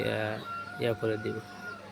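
Chickens clucking near a person preparing a Ranikhet (RDV) vaccine dose, with a few short clucks and calls over a background hum, and a voice talking at the start.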